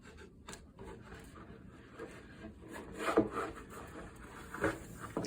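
A painted plywood cabinet panel slid into place during cabinet assembly, a soft wooden rubbing scrape with a couple of light knocks, close and quiet.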